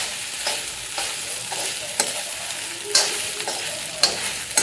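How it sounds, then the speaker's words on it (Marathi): Okra frying in hot oil in a pan with green chillies, a steady close sizzle broken by periodic scraping taps as a spatula stirs the pieces about every second. "त्यामुळे आपण भाजून घेतानाच आहे ना भेंडी चांगलंसं भाजून घ्यायचं"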